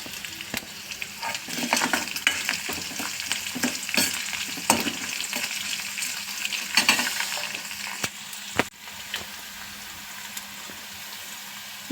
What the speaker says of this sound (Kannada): ಸ್ವಲ್ಪ ಹಸಿಮೆಣ್ಸಿನ್ಕಾಯಿ ಫ್ರೈ ಆದಮೇಲೆ ಒಣಗಿದ ಮೆಣಸಿನ್ಕಾಯಿ ಹಾಕ್ಕೊಬಿಡೋಣ